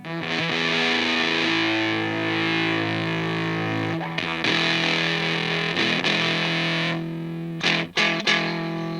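Electric guitar through a famous fuzz pedal circuit, thick distorted sustained chords ringing loud and close, with brief cuts and switching clicks as neck and bridge pickups are swapped; no talking.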